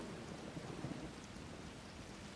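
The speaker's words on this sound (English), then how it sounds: "I better do it now before this rain gets any worse." Heavy rain pouring down outside, a faint, steady wash of hissing noise with a few soft low rumbles and no voices.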